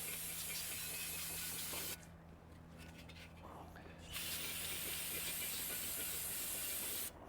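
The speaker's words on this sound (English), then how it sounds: "I'm just gonna spray this out." An aerosol cleaner hisses in a loud, steady spray, pauses for about two seconds, then sprays again in a long second burst.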